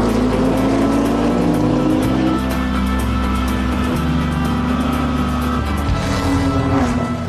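A racing car in a film scene drifts with loud, sustained engine roar and shifting pitch, held as the car slides under counter-steer.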